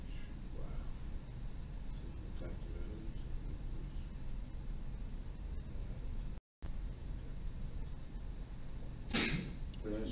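A single sharp sneeze bursts out near the end over faint room noise during a quiet math tutoring session.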